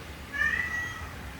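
A cat gives a single drawn-out, plaintive meow, close and clear against a quiet indoor background.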